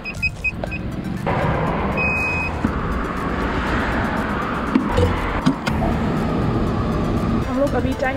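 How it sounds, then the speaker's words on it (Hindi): Busy street traffic after pandemic restrictions eased, with cars and vehicles passing continuously at moderate distance, a steady road rumble with occasional short beeps and horn-like tones over it. "ट्रैफिक भी काफी है।"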